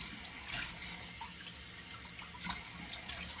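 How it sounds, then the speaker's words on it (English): Cold water runs from a tap into a sink in winter: a steady, faint hiss and splash of the flowing stream, close by and continuous, with no voices. "let's run some cold water"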